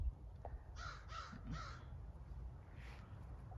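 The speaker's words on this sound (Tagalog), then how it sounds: "Ayan may uwak doon guys oh." Three harsh caws from a crow in quick succession, followed after a pause by a fainter fourth call, over low outdoor background noise.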